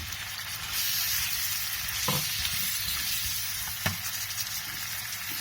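Potatoes, cauliflower, peas and moongre are added one by one to masala frying in a pan, producing a loud, steady sizzle with a couple of sharp clatters and some stirring.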